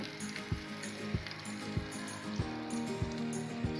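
Samosa pastry scraps sizzle steadily in hot oil as they fry, a continuous crackling hiss with a few soft thumps at regular intervals, close by, with no voices.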